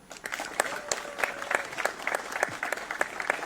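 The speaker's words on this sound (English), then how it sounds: "Please welcome with a big round of applause, Konstantin Buschmann." Audience applause at a Brabus new car reveal event, a dense sustained clapping from a crowd, steady and moderately loud throughout.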